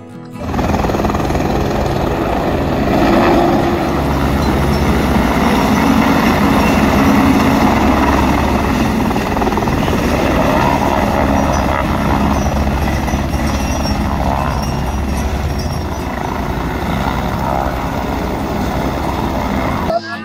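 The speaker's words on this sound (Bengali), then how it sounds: "2 মিনিট পর পর একটা করে হেলিকপ্টার আসছে" A loud, continuous mechanical rumble and whir of a nearby shuttle helicopter at Kedarnath, droning steadily throughout with muffled voices beneath it.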